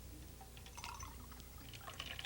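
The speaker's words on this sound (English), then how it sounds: "The water will go in the glass." Water poured from a pitcher into a drinking glass during a live presentation, heard as a soft, close trickle and splash with scattered bright drips in a quiet room.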